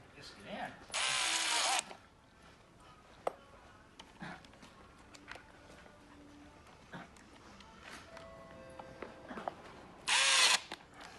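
Two loud bursts of a power drill driving half-inch screws into a floor while fixing a vent template, one at the start and one near the end, separated by quieter shuffling and handling noises.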